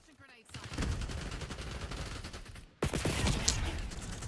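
Gunfire from a video game shooter, sustained rapid automatic bursts, loud and close, broken by a short pause before another dense volley resumes.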